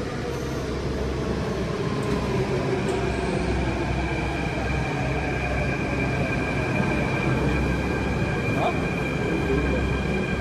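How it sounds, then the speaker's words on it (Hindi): A Delhi metro train pulls into a station with a steady, loud rumble and a high whine, while people talk over it. "तो भाई ये आ गया अपना मेट्रो"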